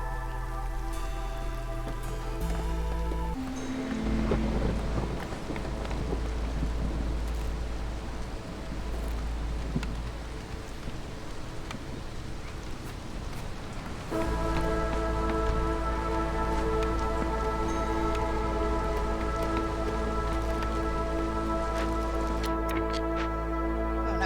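A storm in the video game Against the Impossible Storm brings steady rain that hisses continuously throughout, blended with sustained game music.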